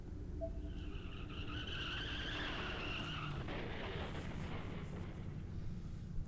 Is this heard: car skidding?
yes